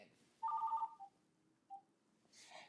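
An incoming phone call on a call-in show: a short burst of electronic telephone tones in a rapid even pulse, then a lone faint beep and a brief hiss near the end, heard clearly with no one talking.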